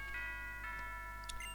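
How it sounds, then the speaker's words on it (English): A chiming school bell from the video game Pokemon Sun rings in a short, bright electronic melody of several tones over a steady low hum, with no talking. "That's the school bell."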